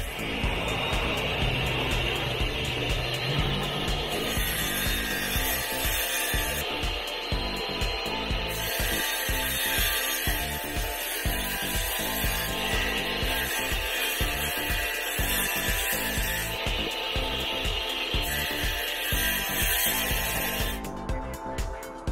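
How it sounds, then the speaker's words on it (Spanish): A power saw cuts stone pieces for a stone wall, giving a continuous high grinding whine that surges and dips in repeated passes over a gritty rumble, running alone until it cuts off near the end. "Hay que cortar bastante para poder fabricar toda esta pared de piedra."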